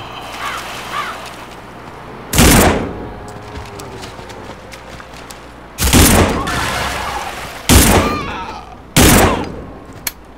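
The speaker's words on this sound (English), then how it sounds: "This is, I think, the worst shotgun" Shotgun in the zombie survival game No More Room in Hell, four loud, sharp blasts spaced a second or more apart over a quiet ambient background with faint cawing.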